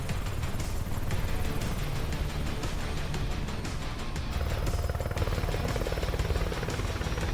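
A helicopter in the video game Warzone drones steadily with a thrumming rotor and engine hum, fairly quiet and continuous, mixed with faint game-like effects and no speech.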